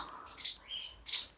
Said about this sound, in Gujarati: કાગડા ક્યારના બોલે છે લે